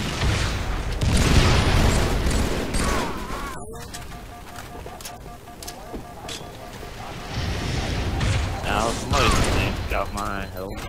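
Heavy booms and rumbling blasts from rocket launcher explosions in Halo 3 Team Slayer on The Pit, swelling and fading over several seconds amid mechanical game noise, with a brief sharp cut partway through.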